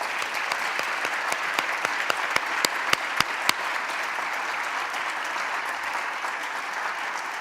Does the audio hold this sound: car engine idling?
no